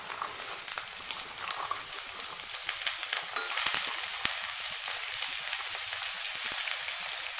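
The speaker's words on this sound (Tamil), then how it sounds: "வெங்காயம் லைட்டாக வதங்கினவுடனே நாலு பீன்ஸ் ஒரு கேரட்டை சேர்த்துடலாம்." Onions with beans and carrot sauté in a pan with a continuous soft sizzle and light crackling pops, fairly quiet and without any talking.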